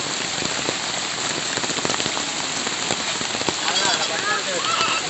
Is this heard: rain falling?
yes